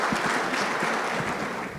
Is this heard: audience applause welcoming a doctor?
yes